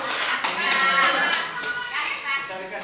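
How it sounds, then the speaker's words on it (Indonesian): A class of about twenty students claps hands together in a classroom, a brief burst of clapping mixed with children's voices chattering over it. "Tepuk tangan dulu semua."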